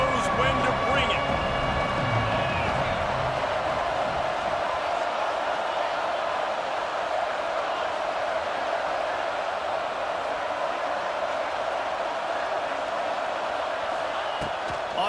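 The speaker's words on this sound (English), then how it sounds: "This crowd knows when to bring it." Stadium crowd in College Football 26 late in the fourth quarter: a loud, steady roar of a large crowd holding for the whole stretch, with commentary voices layered on top.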